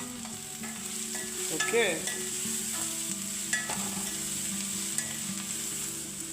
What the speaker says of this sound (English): So let the onion get golden brown.